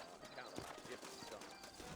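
Horse hooves clip-clopping at a steady walk in the Red Dead Redemption western video game, a continuous soft rhythm under voices talking.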